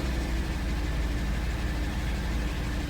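A 2008 Jeep Wrangler engine idling, a steady low rumble that stays even and moderately loud throughout, with no voices.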